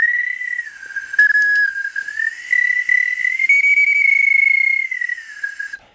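A plastic bird whistle blown in one long continuous tone with a fluttering, warbling vibrato from a small vibrating diaphragm, loud and close, with a few faint clicks near the start and no voices.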